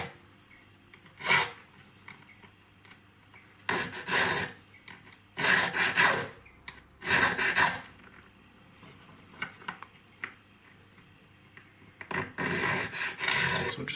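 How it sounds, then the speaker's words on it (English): A hand file rasps across a metal gallery bezel setting in short bursts of close, scratchy strokes, grouped in pairs and separated by quiet pauses. "I'm making sure that my file goes directly across as well, and that will open up the triangle"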